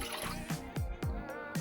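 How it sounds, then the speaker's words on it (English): One cup of water poured into a pan on low heat, splashing and dripping in several short gurgling bursts, close and fairly quiet. "now in this pan which is on low heat, I'm going to add 1 cup of water"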